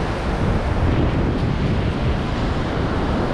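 Stormy sea surf and strong wind at Dzhemete beach near Anapa, a steady loud roar of crashing waves with wind buffeting the microphone throughout, no voices.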